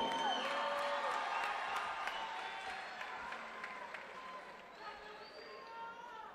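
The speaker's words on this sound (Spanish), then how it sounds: "les damos un fuerte aplauso" Applause and crowd noise at the 2012 Copihue de Oro awards ceremony as performers reach the stage, clapping with scattered whoops that gradually fade over several seconds, with voices mixed in.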